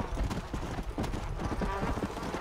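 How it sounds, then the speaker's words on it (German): Hooves of a horse in the video game Undead Nightmare clip-clop in a quick, uneven rhythm, fairly close, with some game ambience underneath. "Das ist mein Modelpferd."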